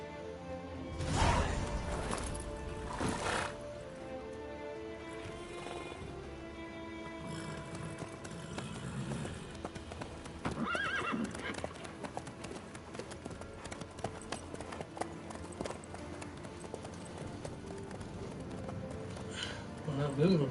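Horse hooves clip-clop in The Witcher 3 while characters talk over them, the steady hoofbeats sitting low and fairly quiet beneath the dialogue with occasional louder thumps.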